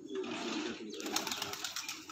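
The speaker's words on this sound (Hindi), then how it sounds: "ये माशाल्लाह जी एक और कबूतर" Pigeons kept on a rooftop loft in Piplan, with soft cooing and fluttering sounds continuing steadily throughout, fairly close, with no talk over them.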